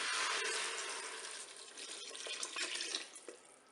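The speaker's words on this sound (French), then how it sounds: "Je vais ajouter mon bouillon, donc 1 litre d'eau avec un cube de bouillon de volaille." Water mixed with a chicken bouillon cube, one litre in all, poured into a Cookeo multicooker pot. It makes a continuous rushing, splashing pour that is loudest at the start and then tapers off with a few drips.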